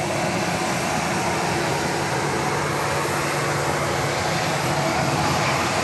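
Southwest Airlines jetliner in a special state livery on the runway at Dallas Love Field at night, a steady, loud broadband engine roar with a low hum that holds constant throughout, with no voices.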